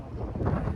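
Wind buffeting an outdoor microphone on a windy day in Oakland, a low rumbling roar that swells and fades over less than a second, filling the low end without any voices.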